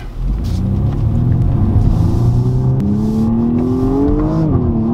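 A 2020 BMW 135i accelerates hard with a loud, close engine note rising steadily in pitch, dropping with a gear change midway and again near the end, with no talk.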